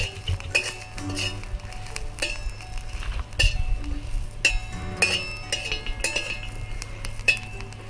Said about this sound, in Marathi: मिरची हलवत राहायची.